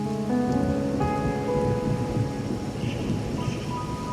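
Steady rain falls in the Raguna area of the Wuthering Waves video game, a dense wash of pattering with a low rumble underneath and faint tonal music lines drifting over it.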